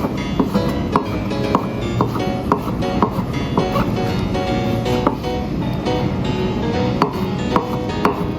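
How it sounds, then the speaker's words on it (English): Knife slicing soaked mushrooms on a cutting board for sesame oil chicken rice: steady, rhythmic sharp taps, up close, repeating evenly without talking. "Wash and squeeze dry mushroom, then slice and set aside."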